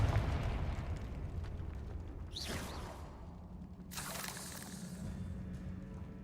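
Confringo spell in Hogwarts Legacy, cast in a crumbling catacomb: a rising whoosh followed by a crackling blast, then a second burst of fiery debris and rumble, loud against a low ambient drone.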